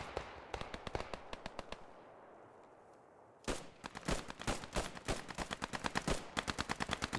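Suppressive gunfire in the Post Scriptum video game during a semi-realistic multiplayer event: rapid, loud, sharp shots in sustained bursts, a brief lull, then dense repeated cracks that taper into a steady rhythmic volley.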